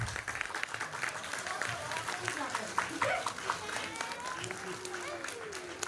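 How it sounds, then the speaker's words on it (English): A crowd at a school event applauding young children steadily, with scattered cheers and chatter mixed into the clapping. "And a big round of applause for our tiny tots."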